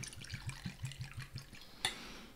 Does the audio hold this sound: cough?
no